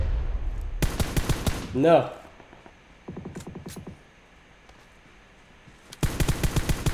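AK rifle fire in the mobile battle royale game PUBG Mobile: sharp, loud rapid-fire bursts separated by pauses, the first and last bursts heaviest, with a brief spoken word and a whooshing effect between them.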